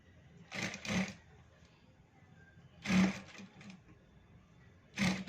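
A sewing machine stitches a bell sleeve in three short separate bursts, each lasting under a second, with quiet pauses between them and no talking.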